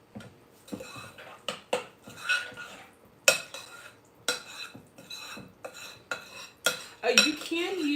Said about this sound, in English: let me get my spoon out and stir this for